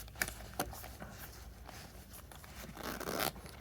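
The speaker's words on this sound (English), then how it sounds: "the little zipper's got a little B for the Beats" Zipper on a Beats Solo Pro headphone case pulled open in a quiet room, beginning with a couple of soft ticks and ending in a short, close rasping zip.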